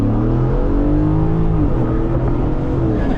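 A Ford F150 with a 5.0 engine accelerates on a road at night, a loud, steady, deep engine roar heard from inside the truck, continuous throughout with rising harmonic tones.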